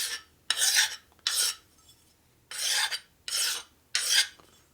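A hand file rasps across a metal edge to deburr it on a custom 1973 Shovelhead bobber build, five crisp strokes in an uneven rhythm with short pauses between, close and clear with no talk.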